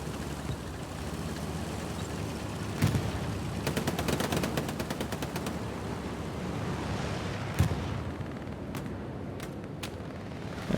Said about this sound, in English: As they traded shots